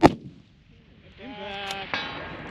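A rifle shot at a steel target on a hunting-match range, one sharp close report followed by a ringing metallic clang from the struck steel and a second fainter impact, with no talk.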